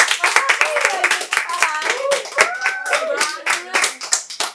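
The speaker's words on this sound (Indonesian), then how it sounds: "Lupa tepuk tangan dulu dong." A studio audience at an Indonesian talk show claps in a burst of sharp, rapid hand claps, close and loud, mixed with people talking and laughing over it.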